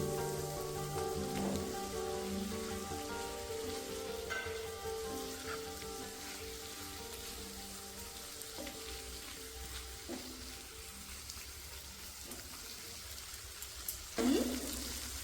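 Chopped tomatoes hit a hot butter chicken pan, giving a steady, soft sizzle and crackle like light rain, with a few clinks of stirring and a brief louder scrape near the end.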